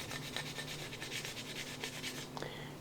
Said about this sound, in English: What I'm going to do at this point is going to just rub the steel wool